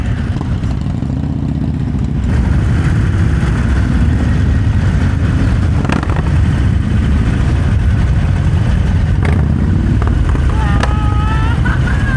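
Several motorcycle engines, including Harley-Davidsons, idle and rev loudly nearby at a bikers' gathering in Ipoh, in a continuous roar with a few clanks on top.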